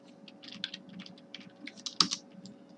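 Keys tapped on a computer keyboard while entering code, a quick irregular run of light clicks with one sharper stroke near the end, close and alone against a faint steady hum.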